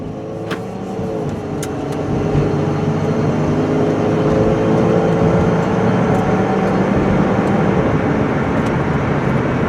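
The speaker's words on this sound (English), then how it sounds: "All right, I'm going to take it for a spin out on the highway." A 2005 Dodge Grand Caravan SXT minivan cruises on an open highway, giving a steady, loud interior drone of engine and road noise that builds slightly in the first couple of seconds and then holds even, with no talking.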